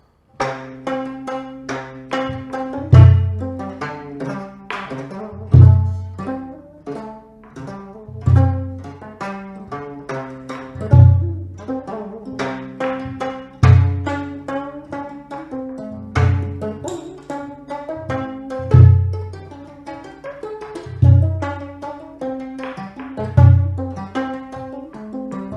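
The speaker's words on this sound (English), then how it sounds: "Kayagam, it sounds like this." A gayageum, the Korean plucked zither, plays sanjo in the Jeolla style, with crisp plucked notes in a steady rhythmic pattern and a strong low accent recurring every few beats, clear and solo.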